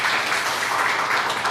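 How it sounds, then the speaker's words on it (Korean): Church congregation applauding in congratulation during a Sunday service, a short burst of steady, close clapping from many hands. "그쪽을 향해서 인사할 때 우리 축하의 박수 합시다."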